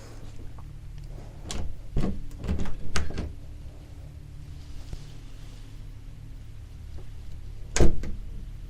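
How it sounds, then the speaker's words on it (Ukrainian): A door in a Canadian apartment building opening and closing, with several sharp clunks and latch clicks around the middle and one loud bang near the end, heard close over a quiet room. "Ось стосовно того, як взагалі відкриваються двері, досить цікаво."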